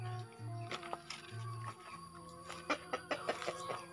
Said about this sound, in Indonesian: oh ayam pelung ya mah